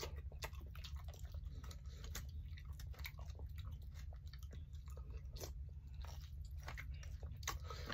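Someone eats spicy Thai pork bone soup with lime and bird's eye chili, making faint, close crunching and chewing sounds in an irregular rhythm over a low steady background hum.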